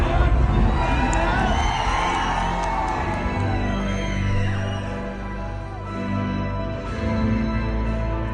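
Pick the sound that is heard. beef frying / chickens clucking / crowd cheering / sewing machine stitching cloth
crowd cheering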